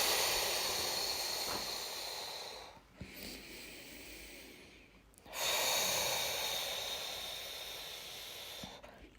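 Slow, deep breaths during a guided sophrology meditation: two long airy inhale-exhale cycles, close and soft, separated by short pauses, with no speech.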